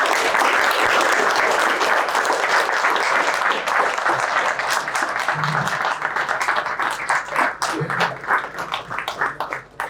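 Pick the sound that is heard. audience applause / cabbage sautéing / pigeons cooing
audience applause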